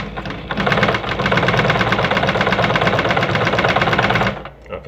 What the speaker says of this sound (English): So when I sew right now, I'm sewing the left hand side.